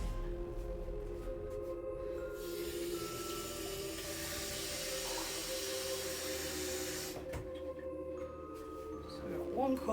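Cold water runs into a pan of rice pudding, a soft continuous hissing pour lasting several seconds in the middle, quiet and close against faint kitchen background, without speech.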